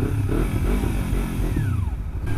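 A Dodge Hellcat roars past, its loud, rough engine rumbling close by and sustained throughout, with a brief rising whine near the end as it moves off.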